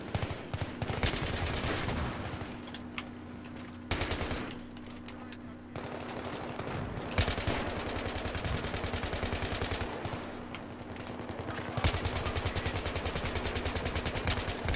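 M240B machine gun fire in Battlefield 3, with dense sustained bursts across most of the stretch, broken by brief pauses, loud and close over the game soundscape.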